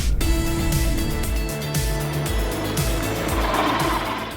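An ERA Championship electric race car at speed around the Hungaroring circuit during the Super Racing Festival, a loud close whine with rising and falling pitch as it accelerates and shifts through corners.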